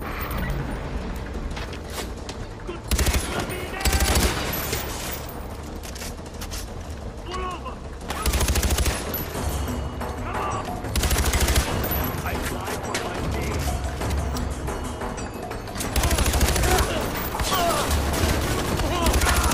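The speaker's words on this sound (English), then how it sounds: "Break out the assault rifle." Assault rifle fire in the Far Cry 4 video game, with loud sustained bursts repeating every few seconds over a continuous rumbling battle backdrop.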